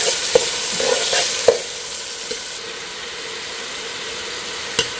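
Two onions fry in oil, giving a steady close sizzle with a few clicks and knocks from stirring, fairly loud and with no voices.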